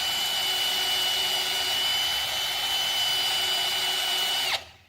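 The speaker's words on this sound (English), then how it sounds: "Now we're taking our time and letting the drill do the work." An electric drill bores a hole in a large VEX Robotics shaft, a steady high motor whine held for several seconds that winds down abruptly at the end, alone and without talk.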